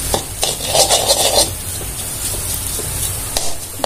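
Carrot, greens and egg poriyal being stir-fried in a pan: a steady scraping and sizzling stir with brisk bursts of spatula strokes early on, then a softer continuous fry.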